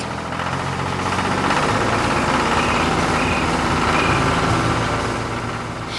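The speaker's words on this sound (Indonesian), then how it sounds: "Traktor besar dengan ban lebar berjalan di atas tanah yang telah diolah." A large wide-tired tractor drives over tilled farm soil, its heavy engine giving a loud, steady, low rumble that holds unchanged throughout.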